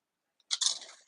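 Scissors or paper snips cut through cardstock while a candy-size theater treat box is assembled, giving a short, close, crisp snipping crunch after a faint tick, with no talking.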